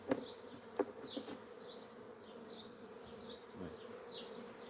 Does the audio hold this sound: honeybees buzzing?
yes